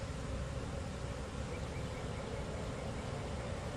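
Honey bees buzz around a hive in a dense, steady drone of many insects, fairly faint and continuous with no voices.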